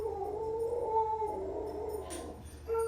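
Dogs on a farm howl and whimper, a sustained wavering howl with whiny rises, close and fairly loud, ending with a short yelp-like burst.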